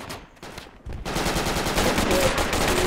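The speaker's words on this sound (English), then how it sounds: "We're taking fire from the north as well, from the compound." Rapid gunfire in the military shooter Project Reality, a sparse shot or two followed by a dense, sustained burst of automatic fire that stays loud and close.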